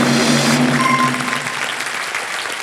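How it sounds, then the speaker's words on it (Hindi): A television quiz show studio audience breaks into loud, dense applause that holds steady, then thins and fades over a couple of seconds. "ताली बज जाए"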